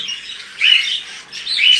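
Male birds fighting let out harsh, high squawks in quick bursts, close and loud, rising and falling over a couple of seconds.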